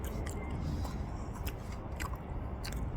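Someone eating Korean winter street snacks such as fish-shaped bread, hotteok, fish cake and egg bread, with soft close bites and chewing sounds under a steady low background rumble, no talk.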